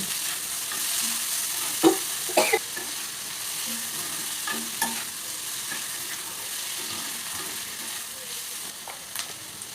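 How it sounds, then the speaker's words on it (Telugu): Onions fry in a pan for gongura curry, giving a steady moderate sizzle broken by several sharp stirring scrapes and taps against the pan, with no talk. "ఉల్లిపాయలు మగ్గడం కోసం కొద్దిగా సాల్ట్ పసుపు వేసుకుని మరొకసారి బాగా వేయించుకోవాలి"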